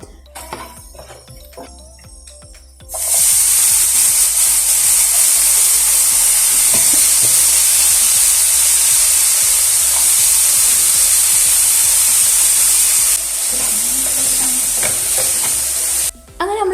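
Elephant foot yam pieces hit hot oil with turmeric and chili powder and break into a loud, steady sizzle that holds for most of the stretch, easing slightly near the end, with occasional stirring clinks.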